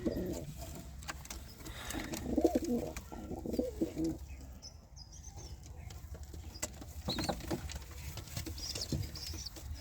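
Pigeons coo softly in a home loft, low and fairly faint, with light pattering and rustling in the background.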